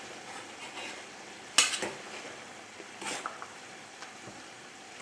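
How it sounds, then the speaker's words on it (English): Penne pasta with sausage sauce and freshly added spinach stirred in a pot, a soft background sizzle with a sharp utensil clack against the pot and a few scraping stirs, close and quiet, no talk. "all you do here is just give it a quick stir"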